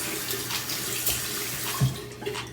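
Tap water runs steadily into a bathroom sink as hands are wet for an oil-free acne face scrub, a continuous splashing rush with a brief louder splash near the end and no talking.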